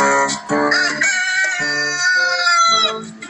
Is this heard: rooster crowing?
yes